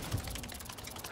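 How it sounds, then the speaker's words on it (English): A weapon reloads in the KILLBUG video game, a brief burst of mechanical clicking and ratcheting lasting about a second, close and fairly loud. "I'm reloading."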